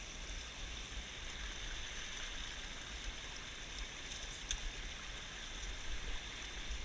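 Water flowing steadily in a small woodland stream, a constant soft rushing and trickling texture with a few brief splashes, fairly quiet and with no voices.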